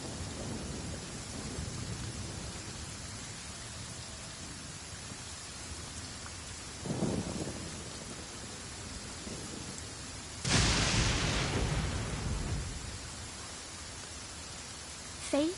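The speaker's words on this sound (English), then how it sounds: "With rain this heavy, not only are the stars clouded, so too is my scryglass hazy." Heavy rain pours steadily in the Genshin Impact game world, a dense even hiss with a louder surge partway through and a brief swell earlier, no voices over it.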